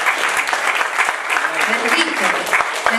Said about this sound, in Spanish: necesitamos darle un aplauso al Señor, lo merece